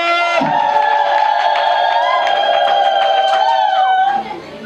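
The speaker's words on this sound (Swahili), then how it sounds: "Makofi na vigelegele." Audience at a Swahili-language gathering erupts in sustained cheering and high trilling ululation, loud and continuous for about four seconds before dropping away abruptly near the end.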